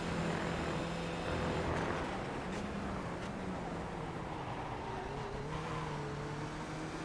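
A race car engine drones steadily close by at the Red Bull Ring, with a second car's engine whining alongside and its pitch shifting as it revs.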